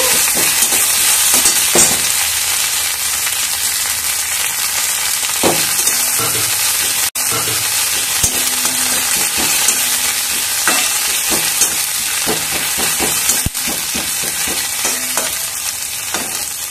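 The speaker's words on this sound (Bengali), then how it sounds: "তেল গরম হয়ে গেলে এর মধ্যে দেব যে উচ্ছে পাতা এনেছিলাম গাছ থেকে, সেগুলো দিয়ে শুকিয়ে রেখেছি। ওটা তেলে হালকা নেড়ে নেব।" Dried bitter gourd leaves stir-fry in hot oil for a Bengali chal kumro shukto, giving a steady, loud, close sizzle with intermittent scraping and stirring clicks throughout and no talk.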